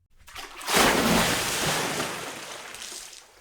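A desk fan blows across water in a baking dish, whipping up waves: a broad rushing splash swells in loudly, holds, then slowly fades away.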